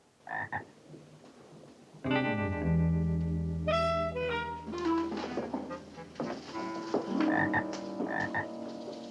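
A bullfrog croaks several times in a classroom scene of a sitcom: a few short croaks followed by louder, deep, resonant croaks, with brief pauses between them.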